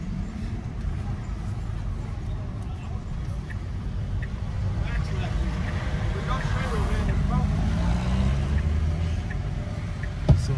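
A 2024 Tesla Model 3 facelift, the basic version, accelerates hard at full throttle uphill, with a low rumble of road and motor noise building steadily as it gains speed.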